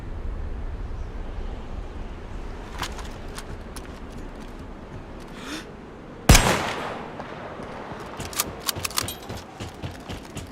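Gunfire in the medieval video game Livonia, scattered distant shots with one sharp louder crack near the middle, then a flurry of faint clattering shots over a steady background hum.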